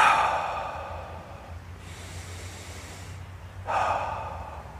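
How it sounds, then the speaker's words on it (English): Two slow, audible breaths taken during a body language and voice workshop, each a close airy exhale, the first at the start and the second after a quieter inhale. "take a couple of breaths"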